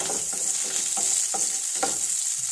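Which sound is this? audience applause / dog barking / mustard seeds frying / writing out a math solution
mustard seeds frying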